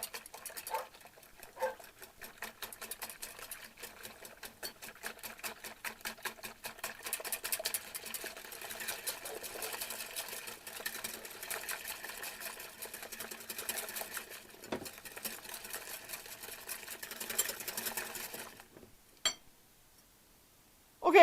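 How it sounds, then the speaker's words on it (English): A whisk beats eggs in a bowl with rapid, steady ticking and clicking strokes that continue for about eighteen seconds, then stop, leaving a short pause before one final knock. "Whisk that into the eggs."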